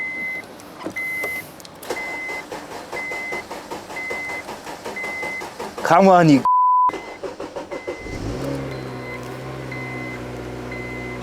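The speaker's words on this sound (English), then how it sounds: "Let's give it a crank." Honda Civic Type R with a suspected dead battery, the starter cranking in a rapid rhythmic churn alongside warning beeps, then a pause and renewed cranking that settles into a running hum, with brief speech.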